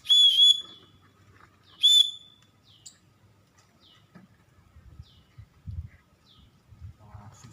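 Two short, shrill blasts of a whistle ring out to call trained Javan mynas, followed by faint chirps, soft rustling and light knocking in the background.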